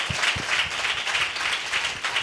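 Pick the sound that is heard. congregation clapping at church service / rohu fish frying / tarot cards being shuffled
congregation clapping at church service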